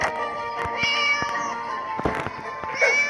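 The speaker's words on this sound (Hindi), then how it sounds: "तो बिल्ली इसमें है," A cat meows several times in a short sequence, close and fairly clear over a quiet room with a few small knocks.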